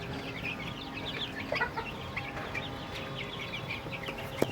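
Sonali chicks eating bran and maize feed, with a steady stream of high, overlapping peeps and soft clucks close by, and a few louder calls standing out near the end.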